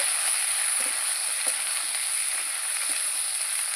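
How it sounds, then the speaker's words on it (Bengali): Potato and onion pieces fry together in a pan after tempering, a bright continuous sizzle with soft intermittent bubbling pops, loud and close with no voices. "আলু পেঁয়াজগুলি একসঙ্গে দিয়ে দেবো ভালো করে আমি ভেজে নেব"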